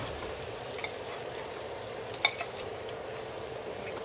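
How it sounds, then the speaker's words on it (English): Spoon stirring browned ground beef with Manwich sloppy joe sauce in a pan, a steady soft wet sizzle and churning, with one brief sharp clink of utensil on pan midway, no one talking. "Mix it all up."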